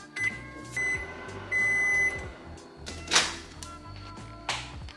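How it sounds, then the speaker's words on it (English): Microwave oven heating a bowl of vegan food with vegetable broth: a series of short electronic beeps and button taps, then clunks and a door thud, quiet and close by. "Pop it in the microwave"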